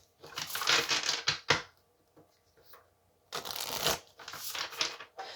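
Tarot cards shuffled by hand in two bursts of brisk, riffling flutter, close and fairly loud, with a quiet pause between them and no talk.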